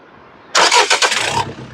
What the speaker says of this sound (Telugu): ఇంజిన్ స్టార్ట్ చేయాలి ఒకసారి